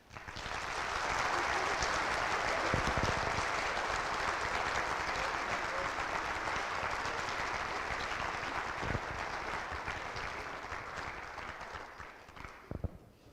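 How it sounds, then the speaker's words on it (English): Sustained audience applause at a Minnesota Honor Society induction ceremony, a steady roar of many hands clapping that holds for about twelve seconds before thinning out at the end. "Please join me once again in applauding all of our new Minnesota Honor Society members."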